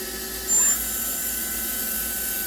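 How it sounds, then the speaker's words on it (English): A Mori Seiki MV40M CNC vertical machining center spindle runs close by, a steady, quiet mechanical whir with a faint high whine that holds evenly throughout. "But you can hear this spindle is super quiet."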